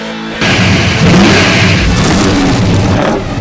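A 351 cubic inch V8 in a Ford Falcon XY GT revs hard and loud from close by. The engine roar swells and holds for about three seconds with no talking.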